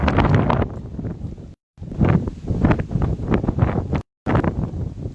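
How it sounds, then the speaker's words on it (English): Strong wind gusts across Horseback Ridge in Dominica and buffet the microphone with loud, rough roaring that surges and eases, broken by two brief dropouts. "The wind is giving me a little competition right up there"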